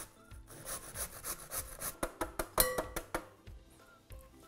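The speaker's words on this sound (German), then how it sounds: "Und Kartoffeln, ich mache ganz fein reiben." Potatoes are grated finely against a grater, a series of rhythmic rasping strokes that get sharper and more pronounced toward the middle, close and fairly quiet with no voices.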